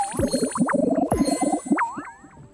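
A bell rings at the end of a market day in the cozy caravan video game Sweet Ideas: a quick run of bright chiming tones followed by a few rising, ringing pings that fade out, alone without talk.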